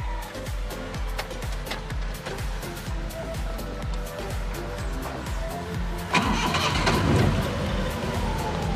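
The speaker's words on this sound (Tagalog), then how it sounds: "i-switch muna natin yung ating sasakyan," A car engine cranks with a steady rhythmic churn, then catches and rises into a louder, close running rumble.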